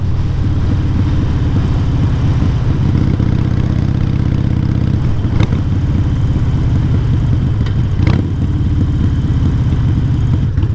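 Motorcycle engine held in fourth gear at steady throttle, a continuous even drone close to the rider with a couple of brief sharper blips, no voices.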